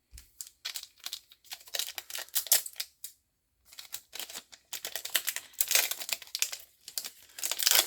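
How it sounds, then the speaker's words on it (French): The foil wrapper of a One Piece card game booster pack is torn open and crinkled in a series of sharp, close crackling rips, broken by a brief pause partway through. "Le papier est différent des autres boosters. Il se déchire assez bien et puis il a l'air un peu plus fragile."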